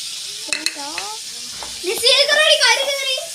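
Chilli fries in a pan with a faint, constant sizzling hiss running underneath a person talking in a lively, animated voice.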